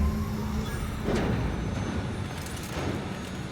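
A spaceship engine in The Outer Worlds rumbles steadily, a continuous low mechanical hum with faint hiss, close and unbroken throughout without speech.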